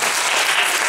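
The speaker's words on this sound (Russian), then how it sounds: "это достойно аплодисментов" An audience applauds during an open Thai boxing class, a brief, dense burst of clapping, close and steady.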